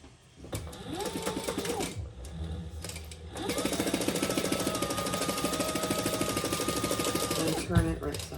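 A sewing machine runs in two long bursts, stitching bag lining pieces together for a crossbody bag, its steady rapid needle chatter close and loud with a pause between runs, while a person speaks over it.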